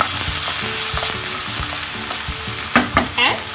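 Chopped onion fries in a pan while being stirred, a steady close sizzle broken by scraping spoon strokes and a few sharper clanks near the end, with no talking.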